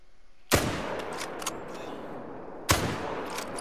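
Two sharp, loud hunting rifle shots in a video game, set about two seconds apart, each followed by a long echoing decay across open terrain.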